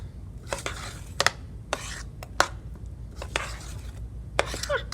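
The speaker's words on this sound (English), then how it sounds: "I'm gonna stop and stir." A spoon works through a thick cookie dough in a bowl, giving irregular scraping strokes and dull knocks against the bowl's side, close and fairly quiet, with no talking.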